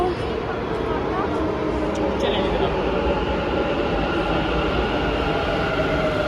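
A metro train rumbles into a station with a loud, steady roar of wheels on track, a faint high squeal rising briefly partway through.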